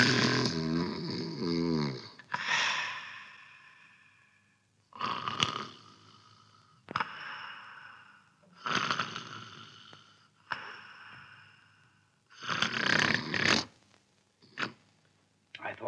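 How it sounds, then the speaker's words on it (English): A person snoring in a comedy scene, a series of loud rasping breaths in irregular bursts separated by short quiet pauses, heard close up. "I thought you'd like to know you've been snoring."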